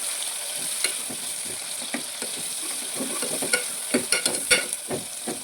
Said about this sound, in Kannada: ಉಳ್ಳಾಗಡ್ಡಿ ಗಟ್ಟಿನ ಡೌನ್ ಮೆಣಸಿನ್ಕಾಯಿ ಹಾಕ್ತೀನಿ. ಸ್ವಲ್ಪ ಫ್ರೈ ಆಗಲಿ.